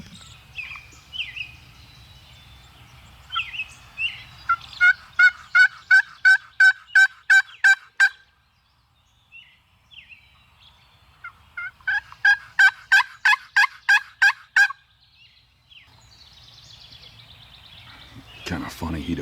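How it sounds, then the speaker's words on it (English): A wild turkey gobbles in two loud rattling bursts separated by a pause, clear and fairly close in an outdoor morning setting, with faint wind rumble but no speech. "I just heard one gobble straight across from me too."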